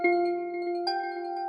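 A Dream Bell synth preset from FL Studio plays alone, sustaining clean glassy bell tones, with a second soft note struck partway through.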